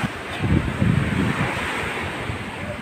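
Sea water surges in through a broken sea wall, a rough churning wash of surf with low rumbling swells and wind buffeting the microphone, no voices.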